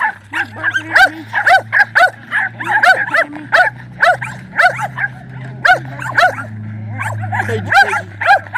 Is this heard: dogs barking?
yes